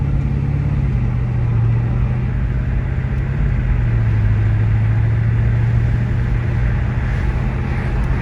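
Steady engine drone from inside an Audi S4 B7 with the 4.2 liter V8 while driving on a street, held near 3,000 RPM, a continuous low hum with a slowly shifting pitch and no talking.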